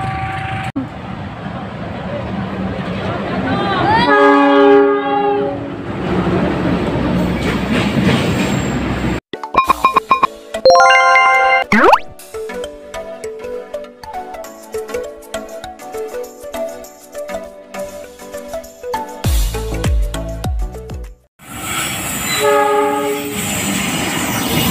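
A passing train near the tracks sounds its horn in repeated loud blasts over heavy rumbling and clattering wheels, with a brief squeal and a gust of noise as the cars rush by.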